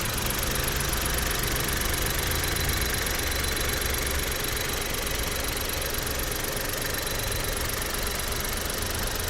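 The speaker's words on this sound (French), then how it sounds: "Je vous montre du coup le moteur." A SEAT Ibiza with a 1.0 TSI 12-valve 95 hp three-cylinder petrol engine idles steadily, a dense even hum and clatter heard close up with no break or change in level.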